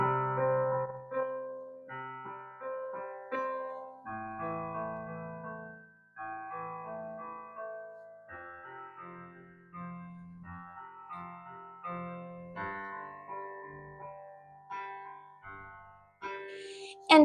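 Piano left hand rolling through a root-fifth-octave pattern on sustained pedalled chords, a steady flowing accompaniment of overlapping ringing notes, played alone and close for the whole stretch.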